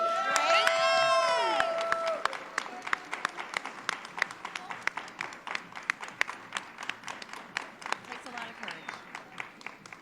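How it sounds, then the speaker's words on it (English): An audience bursts into applause and whoops, then the clapping thins to scattered, uneven claps that carry on for several seconds, at a leadership institute demo day. "Quick round of applause to everybody up here on stage."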